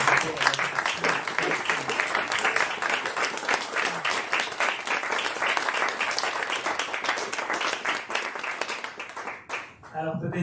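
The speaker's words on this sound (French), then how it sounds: "je pense qu'on peut encore une fois applaudir et remercier tous les artistes qui ont été d'accord de participer" Sustained audience applause for the performers at a round-table event, dense and continuous for about ten seconds before tapering off, with a voice cutting in at the very end.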